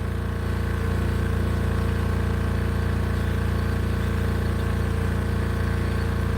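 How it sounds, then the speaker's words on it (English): Steady engine drone from a solar panel cleaning vehicle at a solar farm in Southern California, a constant loud low rumble running unbroken for several seconds with no talk over it. "I'm gonna cut the engine off."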